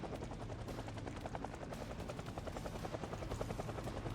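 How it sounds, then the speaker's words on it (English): A helicopter in a video game thumps with a fast, steady rotor chop, heard continuously at moderate distance and fairly faint. "a heli pulls 300 tiles on normal hearing"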